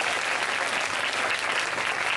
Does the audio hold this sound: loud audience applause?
yes